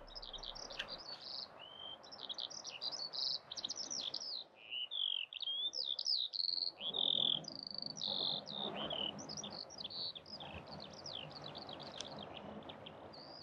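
A Eurasian skylark sings a long, unbroken stream of high, rapid warbling and trilling phrases, close and clear, over faint background hum.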